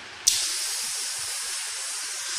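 A pneumatic door open-close mechanism with flow control valves lets out a sudden, steady hiss of air as its valve switches, starting abruptly and holding close and loud to the end.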